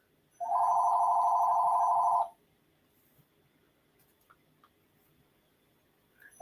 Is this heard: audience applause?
no